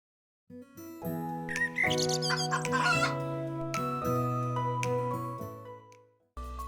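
Several chickens cluck and squawk close by, overlapping calls in a busy burst, with a sharp crow-like cry partway through.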